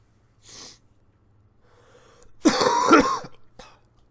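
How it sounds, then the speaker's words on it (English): A man clears his throat and coughs, with a short harsh burst early on and a louder, close cluster of coughing and throat-clearing in the middle, the rest mostly quiet. "I apologize in advance for the coughing."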